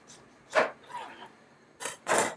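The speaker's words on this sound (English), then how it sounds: "We're gonna cut the lemon" A knife slices through a lemon in a home kitchen during salad prep, giving a short cut near the start and two crisp, close cuts toward the end, with a quiet gap between them.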